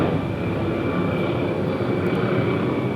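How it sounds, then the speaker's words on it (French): A helicopter lifts off close by, its steady loud engine roar and rotor wash holding at an even level throughout with no pauses, and no voices over it. "Ouais, c'est un hélico qui décolle."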